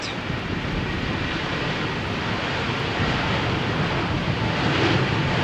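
A Ryanair passenger jet takes off for Dublin from Malaga Airport runway 13 on a stormy morning, heard as a broad, steady distant engine roar mixed with wind buffeting, swelling slightly toward the end.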